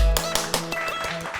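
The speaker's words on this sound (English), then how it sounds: "Megs, hit the clap one time." A clap sound effect fired from a soundboard button during a podcast sounds as a quick run of sharp, close claps in a tight rhythm over a faint background hum.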